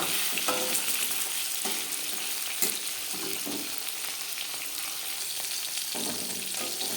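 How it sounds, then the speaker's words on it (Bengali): Katla fish pieces lightly frying in a pan, a steady moderate sizzle of hot oil with occasional sharper crackles and soft stirring or turning clicks, heard alone without talk. "মাছ আমি হালকা করে ভেজে নিলাম"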